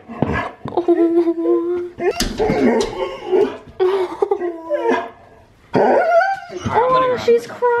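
A pet dog, upset by neighbouring dogs outside, whines and whimpers in high, wavering cries broken by a few short barks, close by, while people talk and laugh around it.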